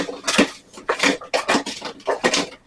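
Seasoning is mixed into potatoes in a baking dish with a utensil, making a run of close, rhythmic scraping and clinking strokes against the dish.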